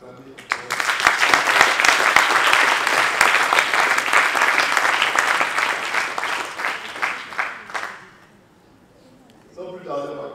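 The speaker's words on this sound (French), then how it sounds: "je vais vous demander de les acclamer" An audience at a tourism and culture panel breaks into loud, sustained applause lasting several seconds, then tapers off into near quiet before a voice resumes.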